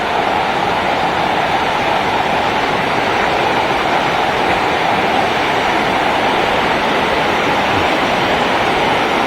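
Maranum Falls, a hidden waterfall in the Philippines, roars loud and close as a dense, unbroken rush of falling water that stays constant and stands alone for the whole stretch.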